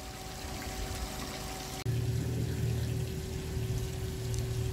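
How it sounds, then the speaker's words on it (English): Water from a solar-powered pool pump pours and splashes outdoors in a steady, close rush beside a DIY solar pool heater, with a brief click partway through after which the flow turns slightly fuller and louder. "Sun hits the solar panel and runs the pump"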